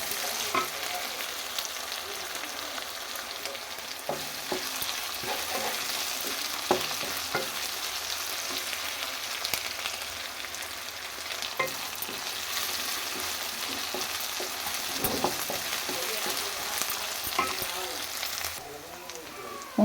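Round black eggplants frying in oil in a pan, a steady dense sizzle and crackle holding for the whole stretch with occasional stirring scrapes and knocks.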